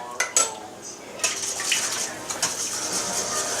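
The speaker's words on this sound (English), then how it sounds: "we're just gonna whisk this around until it gets warm" A whisk clatters and swishes against a pan as eight beaten eggs with half and half are stirred, with several quick metallic taps followed by steady close scraping.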